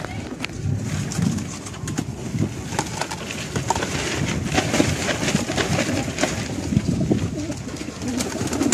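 Racing pigeons cooing in a loft, a dense flock murmuring continuously with soft overlapping calls and flutter, close and steady throughout.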